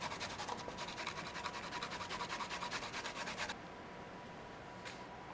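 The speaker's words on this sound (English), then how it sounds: "I'm going to use a microplane to grate this down" A Microplane grater rasping against food for butter chicken, a rapid rhythmic scraping of quick strokes, close and quiet, stopping abruptly partway through and leaving faint room tone.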